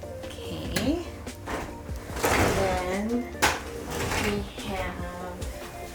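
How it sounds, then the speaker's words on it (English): A sliding bathroom door in a small Japanese apartment rolls open and shut with several knocks and scraping rattles, close by, while a person talks over it. "Has a sliding door, just like the other apartment"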